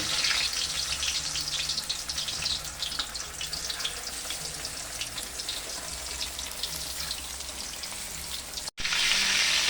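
A large whole milkfish (bangus) stuffed with onion and tomato fries in a big wok, giving a steady, loud crackling sizzle throughout with a brief dropout near the end.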